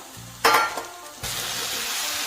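Fried cauliflower with garam masala is stirred in a hot pan: a brief, loud burst of scraping and sizzling, then a steady sizzle resumes and holds to the end.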